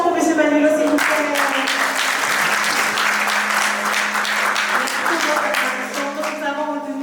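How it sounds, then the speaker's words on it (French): Loud, sustained audience applause fills a trading summit hall, dense clapping steady for several seconds before thinning slightly near the end, with voices faintly audible at the start and close. "Acclamons pour M. Manu, s'il vous plaît."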